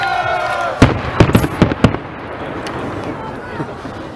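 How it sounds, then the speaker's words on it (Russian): Victory Day fireworks salute in Ulyanovsk marking the 70th anniversary of victory: a quick cluster of sharp bangs and pops over about a second, then fading crackle under steady crowd murmur and voices. "Зато салют хороший."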